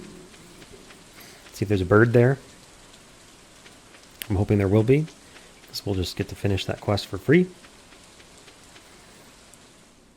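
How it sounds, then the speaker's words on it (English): Steady rain falls in the Stardew Valley video game, a soft even hiss running through the whole stretch beneath someone talking in several bursts. "So it is raining"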